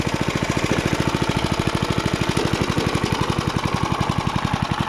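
A vintage heirloom lawn mower engine runs throttled down, its steady, rapid chugging beat close and loud, with no voices throughout.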